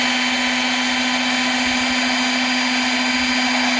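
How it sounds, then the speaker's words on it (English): A belt sander held steady while the ends of wooden dowel rods are bevelled against it, giving a continuous loud motor whine with a strong steady hum and a broad grinding hiss throughout, with no talking. "my dad's gonna hold the belt sander here for me, and I'm gonna bevel both ends of my dowel rods"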